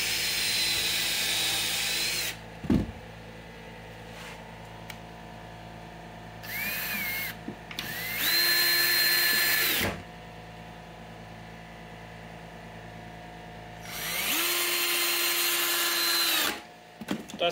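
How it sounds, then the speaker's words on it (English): Power drill pre-drilling holes in hard white oak while building a homemade catfish slat trap, with several separate whirring bursts of a few seconds each and quiet gaps between them, close and loud. "that wood's so hard, that white oak is, you gotta pre-drill a hole to,"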